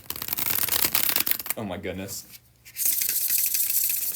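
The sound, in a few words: shuffling a deck of tarot cards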